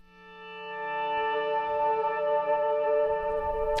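Reverb-heavy transition effect in a pop song mix, a sustained swelling tone with layered ringing harmonics that builds slowly and holds, washed in long echo, with a bright burst at the end.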